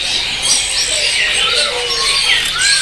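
Samyong NTB birds, young males, calling at a bird kiosk, with repeated thin high chirps and whistled notes over steady background noise and chatter of other caged birds.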